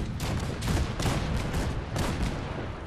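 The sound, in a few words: cannons firing in video game Fallout 4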